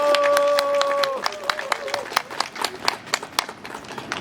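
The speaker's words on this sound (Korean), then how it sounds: "박수 치셔도" An audience in a Korean council or political speech setting claps in scattered, uneven bursts after a voice trails off, moderate and somewhat distant.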